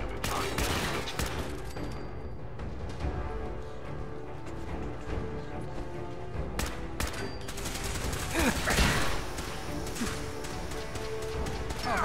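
Weapon fire in Fallout 4 keeps going almost without a break, a dense, loud clatter of shots and impacts with a few sharper cracks, over continuous game noise.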